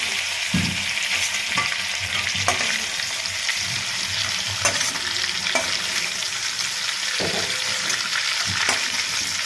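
Shrimp fry in hot oil in a pan with a loud continuous sizzle, spattering crackles and occasional clinks of a utensil against the pan, heard close with no talking.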